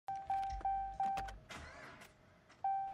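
Ram pickup starter cranking on a depleted battery, several short strained whirring bursts in a row, each fading, then a pause and one more crank, close and loud.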